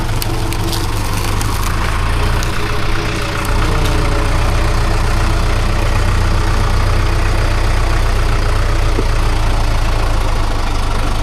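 A four-cylinder, 82-horsepower John Deere tractor's diesel engine idles steadily and loudly up close, with a low, throbbing rumble that continues without a break.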